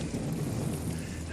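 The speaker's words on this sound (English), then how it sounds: "I love how it starts raining too" Rain and thunder from the film Poltergeist 2 make a dense, steady hiss with a low rumble beneath, filling the short moment without pause.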